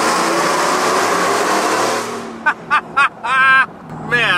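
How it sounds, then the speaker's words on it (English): A Ford F-150 pickup's engine revs hard and loud, then drops into a series of short, sharp downshift blips and a final rising rev, close and clear. "Whoa, the downshifts, I'm gonna miss them too."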